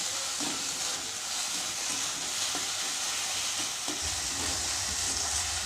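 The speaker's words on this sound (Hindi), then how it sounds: "अब इसके अंदर में हरी मिर्च चॉप किया हुआ डाल देंगे, अदरक डाल देंगे, फ्राई कर लेंगे" Chopped green chili and ginger fry in hot oil for a dhaba-style mixed dal tadka, a steady close sizzle with faint stirring scrapes and a low rumble that grows toward the end.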